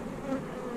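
Bees buzzing around a beehive, a steady, close insect drone with no voices heard.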